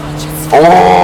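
A car in My Summer Car pulling away carefully in reverse, its engine rising suddenly to a loud, steady drone with a climbing tone, close and dominant.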